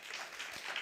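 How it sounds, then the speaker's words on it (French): An audience at a conference for hard-of-hearing people applauds faintly, a soft, even wash of many hands clapping at a distance. "on applaudit aussi Philippe"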